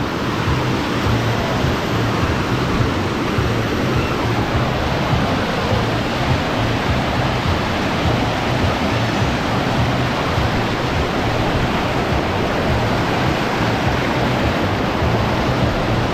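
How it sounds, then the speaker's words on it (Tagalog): Strong water roars at Bagsit River in Palauig, Zambales, as a dense, unbroken rushing wash that stays loud and even throughout, with no clear voices over it. "Lakas ng alon ah."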